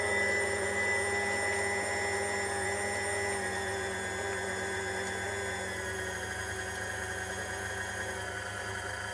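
A Kitchenaid Classic food mixer motor runs steadily during a speed test, a constant close whine with layered tones and no change in pace.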